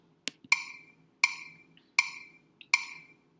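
Sharp, bright clicks land evenly on each whole-note beat of a rhythm exercise, one every four beats, crisp and isolated against near silence with faint tick-like taps between them.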